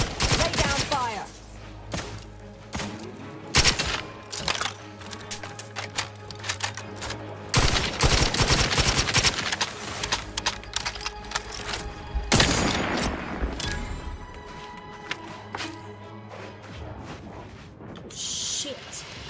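Video game gunfire comes in scattered sharp bursts and volleys of shots, loud and uneven, with quieter gaps between them and some voices under the action.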